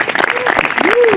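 Audience applause for the youngest cornet player of a youth brass band with members aged 8 to 18, in a brief, dense burst with a cheering voice rising over it.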